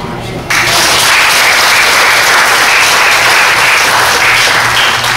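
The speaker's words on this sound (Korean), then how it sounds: "박수 한번 합시다" A church congregation applauds, a loud, steady wash of many hands clapping that swells abruptly after a brief quiet opening and holds strong to the end.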